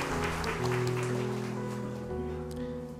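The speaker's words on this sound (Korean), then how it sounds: "사랑과 축복의 박수로 서로를 격려하겠습니다." A church congregation applauding together at a Korean service, steady broadband clapping lasting throughout with sustained organ or keyboard tones underneath.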